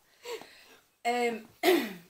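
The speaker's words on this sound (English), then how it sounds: "I've still got a bit of a chesty cough" A few rough, chesty coughs and throat-clearing bursts in quick succession, close to the microphone.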